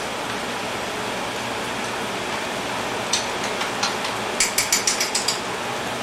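A kitchen microwave oven is being set to warm a vinaigrette: after a steady hum, a few clicks are followed by a quick run of sharp, evenly spaced beeps or ticks from the keypad and dial, close and clear.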